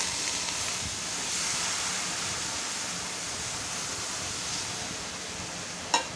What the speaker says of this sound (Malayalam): ആ വെള്ളം കൂടെ ഒഴിച്ചു കൊടുക്കാം ഇതിനകത്തിലോട്ട്.